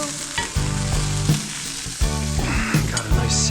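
A NY strip steak sears in a hot pan, sizzling loudly and steadily with bursts of spattering and crackling, close up and with no talking.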